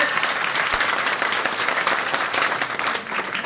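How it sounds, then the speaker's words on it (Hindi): A crowd at a village gathering breaks into loud, steady applause to welcome a guest, dense clapping that holds throughout. "एक बार जोरदार तालियां बजाकर आशा मीना जी का स्वागत करेंगे"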